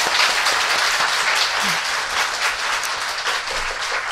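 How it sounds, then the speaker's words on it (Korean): Studio audience applause, a dense, loud and persistent wash of clapping sustained steadily throughout without fading. "굉장히 특이한 성격의 박수네요"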